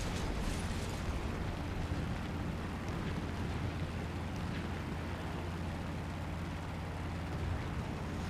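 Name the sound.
bomb explosion in War Thunder video game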